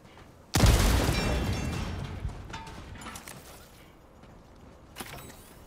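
In Helldivers 2, one loud grenade explosion bursts close by, then a long crackling rumble fades away over several seconds, and a smaller pop follows near the end.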